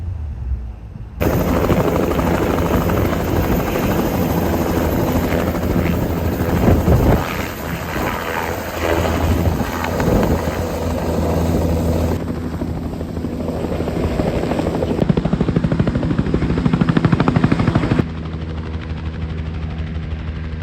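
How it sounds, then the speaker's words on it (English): Blue helicopter flying past over Western Australia, a loud continuous rotor chop and engine roar that holds steady for the whole stretch, close and dominant, with wind buffeting the microphone. "So that's Nigel's helicopter out there, the blue one beyond that plane"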